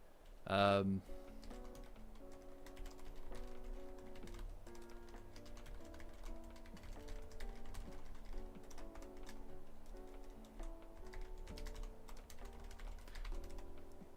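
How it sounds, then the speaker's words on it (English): Fingers type on a computer keyboard in a quick, steady run of soft clicks and taps, close but quiet, with faint background music. "The real question is, am I typing to make you all nervous?"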